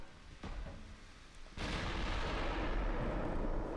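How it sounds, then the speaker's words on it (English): A battleship blows up in the naval combat game Ultimate Admiral: Dreadnoughts: a faint rumble is cut by a sudden loud blast that swells into a sustained roaring, crackling explosion filling the rest of the clip. "One damaged ship retreats. One battleship exploding."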